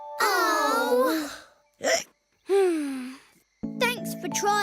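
A cartoon lion voice makes sharp hiccup sounds between sliding vocal cries, with short silent gaps between the bursts and a jingly musical sting at the end.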